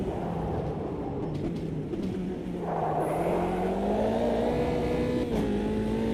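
Racing car engine at Snetterton in a sim racing game, a steady loud drone that rises in pitch as it accelerates through the run, continuous with no talk.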